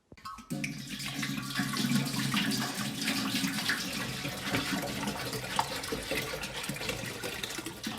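Water gushes steadily from a tap into a large lobster pot, a full continuous splashing rush that starts abruptly and runs without a break.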